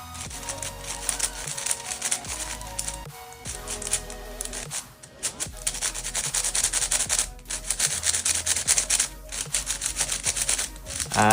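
A new Moyu puzzle cube being turned for the first time out of the box, with a continuous close, dense rapid clicking and scratchy turning that runs almost without pause and is papery and stiff.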